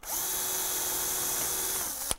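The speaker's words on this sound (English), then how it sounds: "Now I'll just drill this out." A power drill bores out a rivet on the front bumper of a 2015-2020 Cadillac Escalade, giving a steady, close, loud whine for about two seconds that ends in a brief sharp click.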